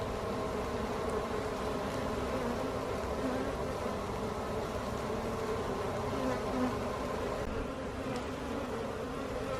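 Honeybees buzz and fan their wings at the entrance of their new hive after a rescue, a dense steady drone of many insects close by, continuous and unbroken.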